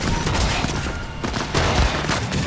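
Gunfire in the Cyberpunk 2077 video game, a dense continuous barrage of rapid shots and booms filling the clip, loud and close, with combat noise all around.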